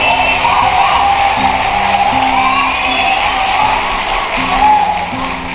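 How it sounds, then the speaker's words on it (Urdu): Audience at a mushaira in Bangalore breaks into applause and cheering, a dense crowd roar filling the short stretch, with a voice speaking over it. "ایک بار زوردار تالیاں اٹھا دے ہوا میں۔"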